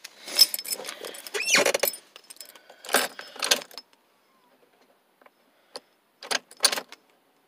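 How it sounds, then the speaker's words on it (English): Keys jangle as they are pulled from a pocket beside a 2019 five-speed manual car, a few close metallic clinking bursts separated by quiet gaps, then a couple of short rattles. "Gotta get the key out of my pocket."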